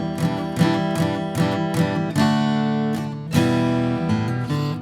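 Acoustic guitar strummed in a song, with muted strokes breaking up the chords into a choppy, rhythmic pattern; close, steady and alone, with harmonic sustain between accented strums.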